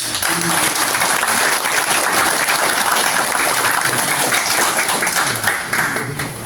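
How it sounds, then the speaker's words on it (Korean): Loud, sustained applause from an audience at a Buddhist commemorative ceremony after an awards presentation. The clapping fills the full stretch at steady strength and thins slightly at the end, with no voices over it. "다시 한번 큰 박수로"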